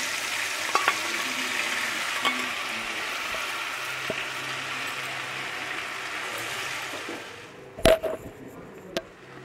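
Tomato fries in a pan with a paste of cumin, ginger and turmeric, giving a steady close sizzle with a few light scrapes, then a sharp clatter near the end.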